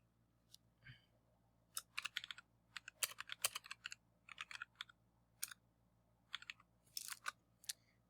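Quiet, close keystrokes on a computer keyboard, tapped in irregular quick bursts with brief pauses over a faint steady hum.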